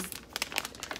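A double-layered plastic bag crinkles while a parcel of gifts is unpacked, giving quick, dense rustles and crackles up close with no talk.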